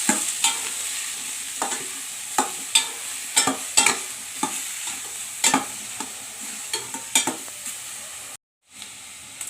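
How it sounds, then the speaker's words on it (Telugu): Thinly sliced mushrooms frying in oil in a pan, a soft continuous sizzle punctuated by repeated sharp scrapes and clicks of a spoon stirring, close and irregular, with a brief cut near the end. "సన్నగా కట్ చేసి పెట్టుకున్న మష్రూమ్స్ని ఇలా ఆయిల్లో వేసుకున్నామండి."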